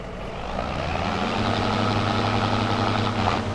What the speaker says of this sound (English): This tractor here is the one we're driving in right now,